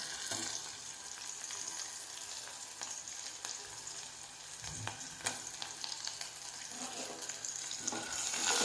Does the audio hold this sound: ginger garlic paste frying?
yes